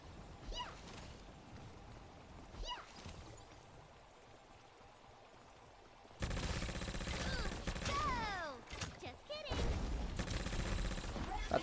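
Gunfire in the mobile shooter T3 Arena, with bursts of rapid shots and effects that grow louder and denser partway through, mixed under game sounds and occasional talk.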